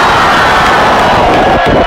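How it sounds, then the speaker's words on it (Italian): Loud, dense crowd cheering and shouting at a hip hop TV channel's third birthday party, a continuous roar filling the short stretch without a break. "voglio un bel applauso per Max Brigante"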